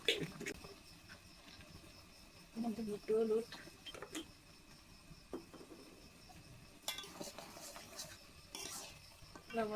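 Salt and turmeric are stirred into food in a pan for a Bengali red taro sour dish, with quiet scraping and occasional clinks of a utensil against the pan, faint and intermittent.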